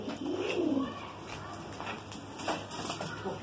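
A short-tailed Chennai-breed pigeon coos softly close by, a low rounded call early on, amid background murmurs, rustling and light tapping sounds.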